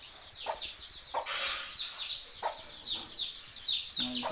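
Several chickens cluck and chatter close by in short, uneven bursts, with a brief louder squawk near the start and no talking.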